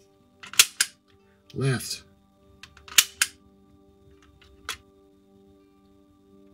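A 1974 Hasbro Ghost Gun toy firing, several sharp, close clicks and snaps spaced unevenly over a quiet room, with a brief spoken word between shots.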